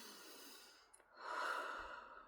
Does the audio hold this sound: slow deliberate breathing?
yes